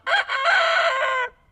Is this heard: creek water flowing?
no